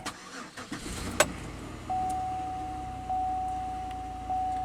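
A Pontiac Aztek six-cylinder engine cranks and catches with a few uneven bursts, then settles into a quiet steady idle, with a thin electronic whine running alongside.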